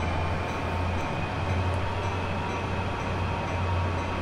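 A simulated diesel locomotive in Train Sim World, pulling a light consist of two engines, throttling up: a steady, dense engine rumble and rolling rail noise holding constant at moderate loudness with no voices.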